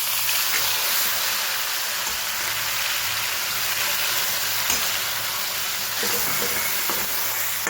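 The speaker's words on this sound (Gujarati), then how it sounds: "એમાં ડુંગળી, ટામેટાં, મરચાં એડ કરી દઈએ સાથે સાથે" Chopped onion, tomato and chilies hit hot oil seasoned with asafoetida, making a loud, steady, close sizzle that hisses on without a break and with no voices.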